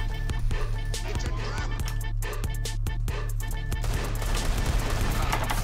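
Desert Eagle pistol shots in CS:GO, a run of sharp, spaced single cracks over a steady low game background, moderately loud, then dense clatter toward the end, with no speech.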